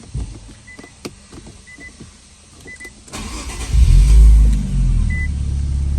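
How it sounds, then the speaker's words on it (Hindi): An Infiniti Q50 starts up after a few soft clicks and a brief electric whir, then the engine catches with a loud low rumble and settles into a steady close idle. "अब मैं यहाँ से गाड़ी को स्टार्ट कर लेता हूँ"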